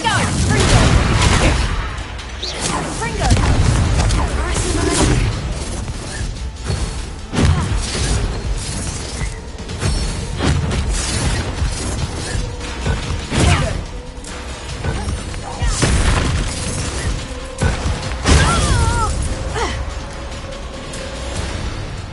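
Confringo blasting spells explode in a Hogwarts Legacy battle, loud booms and crashing impacts recurring irregularly among whooshes and clattering debris, with people talking over the fight.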